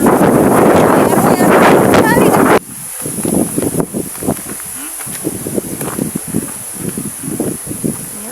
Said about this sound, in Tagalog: Ganito kahangin dito. Sobrang mahangin.